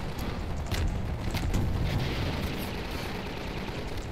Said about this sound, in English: That was like ranged gunfire.